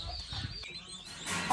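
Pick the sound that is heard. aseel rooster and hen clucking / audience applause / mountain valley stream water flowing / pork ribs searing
aseel rooster and hen clucking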